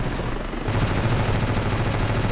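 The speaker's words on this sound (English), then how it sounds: "Oh man, was that enemy flak fire?" Sustained gunfire from enemy flak guns in the Ravenfield combat game, a dense, continuous crackle of rapid shots holding steady at close range for a couple of seconds with no voices.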